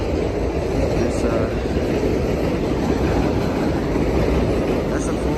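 A New York City subway F train passes close by with a loud, steady rumble and roar of rails that lasts through the whole stretch.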